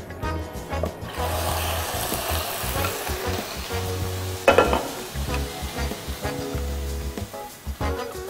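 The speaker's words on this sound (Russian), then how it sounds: "Отправляю курицу сразу в сковороду" Chicken sizzles and crackles in sunflower oil in a hot frying pan, steady and close, with a sharper burst of spatter midway and occasional stirring clatter.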